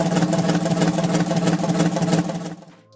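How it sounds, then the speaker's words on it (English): A big diesel engine runs with rapid thumping pulses over a constant hiss and purr, loud and close, before cutting off abruptly near the end. "the diesel engine, despite the thumping sound,"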